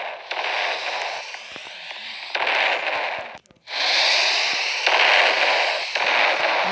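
Missile explosions in a Roblox castle fight game: loud, sustained roaring blasts of broadband noise that swell in waves, break off briefly midway, then surge back just as strong.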